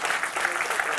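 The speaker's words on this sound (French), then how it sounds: "On peut applaudir nos 4 experts pour" Applause for four expert panelists at a water-sanitation conference, with a steady patter of clapping from the audience in a hall, continuous and fairly close throughout.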